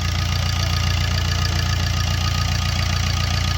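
Maruti Suzuki Swift diesel engine idling smoothly and quietly, a steady low hum that holds even throughout with no talking over it.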